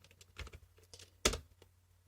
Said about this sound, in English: I type this.